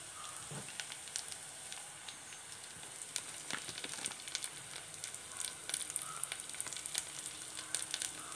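Onions and other ingredients for a fish curry sizzle softly in a pan on low heat as turmeric powder is added, a steady close crackle with small pops throughout and no talking.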